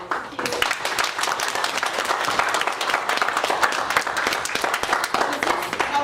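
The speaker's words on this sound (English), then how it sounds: "If we can give her a round of applause." Audience at an ESL program information session claps continuously after a presentation, a dense, even round of applause heard close throughout.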